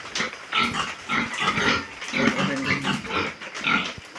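Pigs in a piggery grunt and squeal repeatedly at close range, a busy overlapping chorus of oinks and snorts of varying loudness with no talking.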